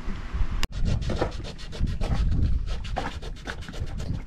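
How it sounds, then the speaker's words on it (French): Hand sanding up close, with quick, rhythmic rubbing strokes repeating steadily after a brief cut, gritty and even in loudness. "Pourquoi tu ponces à cette heure-là?"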